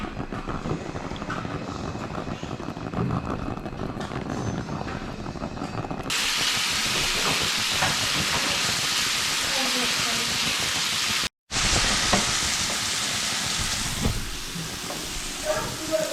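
Bobcat meat sizzling and frying in a pan outdoors while being stirred, a steady loud hiss that stays continuous through the clip, with only a short break near the end.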